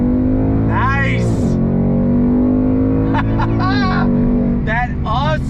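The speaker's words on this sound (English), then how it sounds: "That awesome V8 sound never gets old." A green 2022 Ford Mustang GT's V8 roars loudly under hard throttle, revs climbing and dropping with quick gear changes from its 10-speed automatic, with brief talk from the cabin over the engine note.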